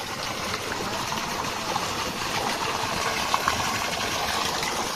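Water gushes steadily from a farm borewell driven by a 3 HP motor pump, a dense continuous rushing wash with no letup.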